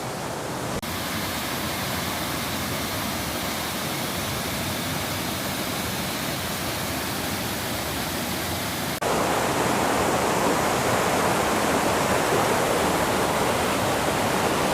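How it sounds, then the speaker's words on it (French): Rushing river water flowing continuously beside a riverside retreat, a dense, loud, steady broadband roar with no voices, shifting to a brighter, harsher wash partway through. "Et en fait donc c'est au bord d'une rivière"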